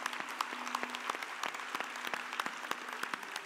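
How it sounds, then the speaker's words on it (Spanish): Congregation applause during a Christmas special at a church service, quiet and somewhat distant clapping with distinct individual claps in a loose rhythm, heard on its own. "Un aplauso a Dios."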